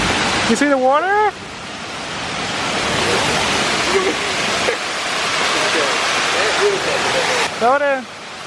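Rushing water, a loud steady roar like a waterfall or surging stream, fills the whole stretch while excited voices and squeals break in near the start and end.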